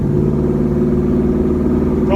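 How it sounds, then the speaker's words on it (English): A 1967 Chevy C10 engine with a MagnaFlow exhaust idles loud and close, a steady deep rumble with even low pulsing throughout. "MagnaFlow exhaust sounds really nice."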